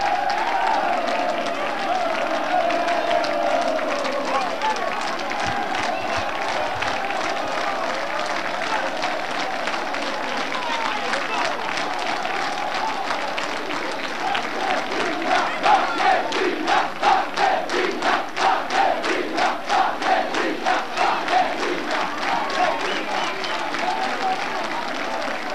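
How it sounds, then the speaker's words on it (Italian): Football crowd in the stands of a Bagheria versus Messina amateur league match, loud sustained applause and cheering swelling into rhythmic clapping and chanting, with a commentator talking over it. "Bagheria applauditissima."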